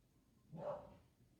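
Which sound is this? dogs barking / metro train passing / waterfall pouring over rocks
dogs barking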